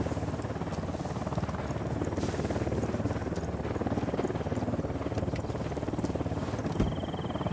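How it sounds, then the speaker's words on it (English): Steady helicopter rotor drone in the video game Ghost Recon Wildlands, with a continuous chopping rumble, loud and constant, with a brief high tone near the end and no speech. "Helicopter incoming."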